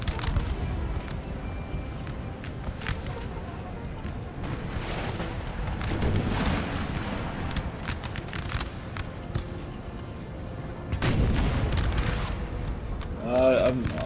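Infantry squares in Napoleon: Total War fire volleys as repeated deep booms and rumbling crackle from a battle, heard under steady commentary.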